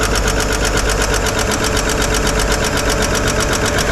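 A 1955 Chevy engine idles with a rapid, steady knock from the bottom end, loud and close, the rhythmic tapping running evenly through the whole stretch.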